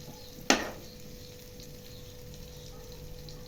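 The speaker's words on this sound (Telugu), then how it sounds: "టమాటో ఫ్రై చేసుకోవాలి." Tomatoes drop into hot oil in a pan with a sharp sizzling burst, which settles into a quieter, steady frying hiss for the remaining seconds.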